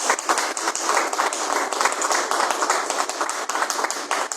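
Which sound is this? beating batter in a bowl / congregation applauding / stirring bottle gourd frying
congregation applauding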